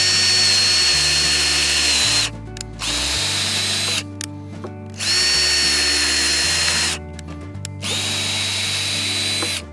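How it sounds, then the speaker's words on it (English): A power drill bores holes into wood while a DIY wedding arch is being built, running loud and steady in three long bursts with short pauses between them. "I put a drill bit on there so I can make some holes."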